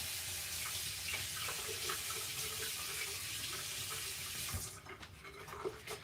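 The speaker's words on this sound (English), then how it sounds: "Let me rinse this again." A jar being rinsed under a running kitchen tap during Thanksgiving cooking: a steady, close hiss of water that breaks into a few splashes and clinks as the flow stops near the end.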